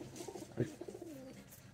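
A lively domestic pigeon on a rooftop loft gives a single soft coo, close by, over faint background murmur and light ambient noise.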